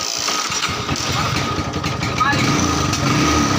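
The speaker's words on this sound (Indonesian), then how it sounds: "Sekarang kita tinggal tes starternya" A Yamaha Scorpion motorcycle's electric starter, just reinstalled, cranks the engine, which then churns and runs rough nearby for a few seconds while someone talks over it.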